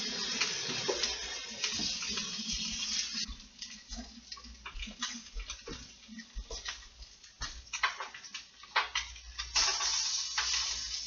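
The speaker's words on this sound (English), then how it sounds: "When you're rinsing or washing your vegetables, your greens, you want to use cold water." Cold tap water runs steadily as greens are rinsed at a kitchen sink, a continuous splashing hiss broken by irregular clicks and clatter from handling the leaves, close and moderately loud with no talking.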